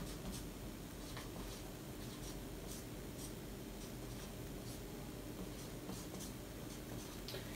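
A maths question being written out by hand, faint steady scratching strokes with short pauses under a quiet room hiss.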